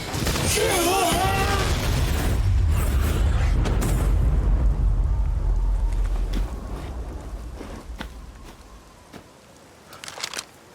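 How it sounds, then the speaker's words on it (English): In the video game Resident Evil Village, a deep rumbling explosion roars up and rolls on for several seconds before fading into quieter debris crackles and thuds, with a voice briefly heard at the start. "I heard explosions."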